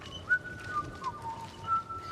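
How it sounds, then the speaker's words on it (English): A character in Banishers: Ghosts of New Eden whistles a short melodic tune, clear wavering notes rising and falling over about two seconds above a soft ambient game background. "Please, stop. Whistling."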